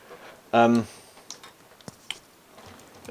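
Several sharp, isolated computer mouse clicks while working in Cinema 4D, spaced irregularly and fairly quiet, following a brief burst of a voice near the start.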